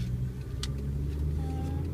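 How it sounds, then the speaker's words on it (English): Car passing on a road with a steady low engine rumble and a continuous tire-and-traffic drone, close and fairly loud throughout two seconds. "That car's going to school."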